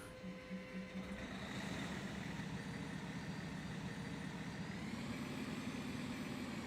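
An emergency vehicle engine idles in the video game FS:911, a low steady rumble with a faint tonal beep early on, even and unbroken throughout.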